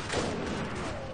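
Gunfire from units in the 1920s alternate-reality RTS game Iron Harvest, a brief loud burst of rattling shots and booms heard close.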